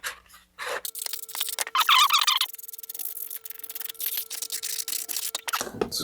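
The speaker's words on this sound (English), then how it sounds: "I'm going to sand off the edge of that just a little bit so I can get it in there." Sandpaper rubbing against the edge of a cardboard model rocket body tube, a close, steady scratchy rasp with short pauses, including a brief louder gritty burst partway through.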